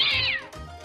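A cat meows in one clear, drawn-out call that falls in pitch, close and fairly loud, with no talk over it.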